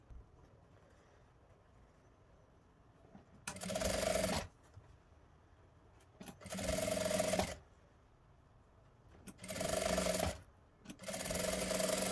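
Sewing machine stitching bias tape onto a folded piece of denim cut from a jeans leg, heard as four separate runs of steady motor whir, each lasting about one to one and a half seconds, with quiet pauses between.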